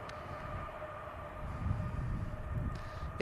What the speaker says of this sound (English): This aircraft is the Mumbai bound Norse Dreamliner